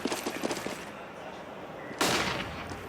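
Mag-7 shotgun fired in a CS:GO match, a single loud sharp blast near the end ringing out with a decaying tail, after softer clattering game sounds.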